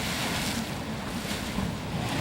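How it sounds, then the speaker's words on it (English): Grotto Geyser in Yellowstone erupting, a continuous loud rushing and hissing roar of water and steam, steady and broadband with no voices. "This is the Grotto Geyser."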